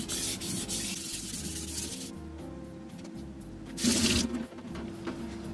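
Single-bevel stainless high-carbon knife pushed flat against a whetstone, giving a continuous gritty rubbing and scraping with a brief louder stroke near the end, close and steady with no talk.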